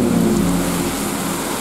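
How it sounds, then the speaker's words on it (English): Heavy daytime rain pours steadily with a low, continuous thunder rumble rolling underneath, loud and close throughout with no speech. "Oh, we got some more thunder."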